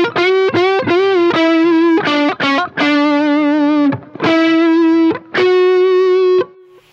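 An EART Chinese Les Paul-style electric guitar with the tone control rolled off plays a run of sustained, overdriven notes, loud and up close with short gaps between phrases.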